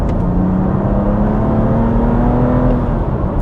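A BMW M2 Competition's M-powered straight-six engine hums steadily with a slowly rising pitch, loud and close, like a car under acceleration from inside the cabin, with no talk.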